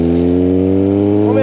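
A Suzuki GSX 750 motorcycle with only a straight pipe shifts into fifth gear without the clutch, its loud, steady engine drone holding close and continuous with a slight rise at the end.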